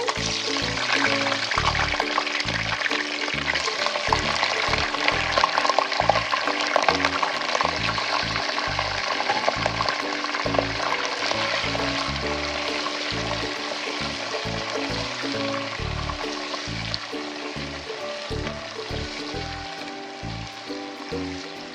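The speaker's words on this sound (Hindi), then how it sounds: "चिकन को हम तेज़ आंच पे भून लेंगे" About a kilogram of washed chicken fried in a pot on high heat for aloo gosht, a loud continuous sizzle with wet crackling and repeated stirring clatter running throughout.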